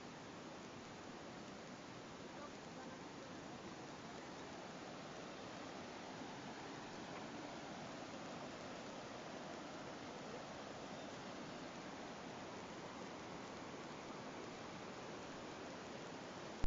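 Waterfall at the Seven Waterfalls of Cafayate, a steady broadband rush of falling water, even and unbroken throughout, with no voices.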